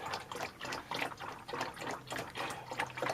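Engine coolant for a Ford Focus 1.5 TDCi being poured from a bottle to mix, a quiet gurgling, glugging flow with uneven splashes close by and no talking.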